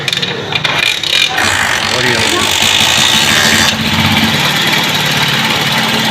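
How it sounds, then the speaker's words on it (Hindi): A motorcycle engine with a newly replaced spring kicks into life and keeps running at a loud, close, steady idle with a busy rattling texture, and a voice sounds faintly beneath it. "अब बाइक को स्टार्ट करेंगे और अब इसका साउंड सुनेंगे।"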